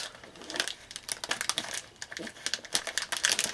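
Crinkly glitter gift bow from American Crafts, pulled apart at the edges by hand, producing a close run of dry rustling and crackling bursts with short pauses between them.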